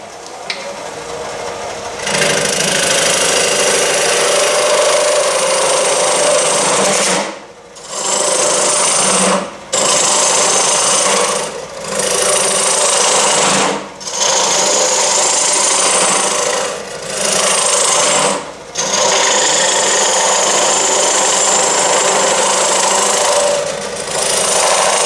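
A round carbide scraper cuts a natural-edge wooden bowl from a limb spinning on a lathe, a loud continuous rasping whir broken by several brief pauses as the tool lifts off.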